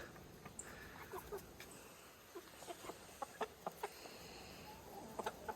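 Chickens cluck softly in short, scattered bursts over a steady outdoor hiss, some calls nearer and sharper than others.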